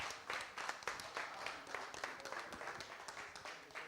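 Applause from an audience at an open mic night in The Grand Opera House, a steady wash of clapping that swells and eases in uneven pulses throughout, moderately loud and without voices over it.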